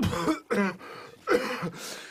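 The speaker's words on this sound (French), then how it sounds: "je tousse un peu" A few harsh, raspy coughs close up, in short bursts with brief pauses between them.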